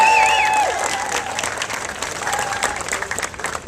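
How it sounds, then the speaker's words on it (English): A round of applause from a gathered crowd at a civic launch event, loud dense clapping filling the whole moment, with faint voices and a brief tonal squeal at the start. "Let's give Tim Brown a round of applause."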